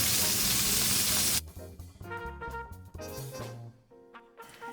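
Pork tenderloin searing in a hot pan, a loud hiss of sizzling fat for over a second that cuts off abruptly, then quieter clinks and faint background sounds follow.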